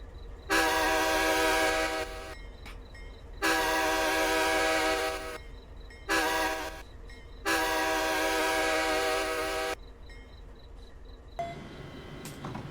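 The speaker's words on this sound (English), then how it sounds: "NJT train passes by" NJ Transit train passing by near a railway track, with loud sustained horn blasts in four long bursts separated by gaps, insects chirping faintly underneath, and rumbling rail noise toward the end.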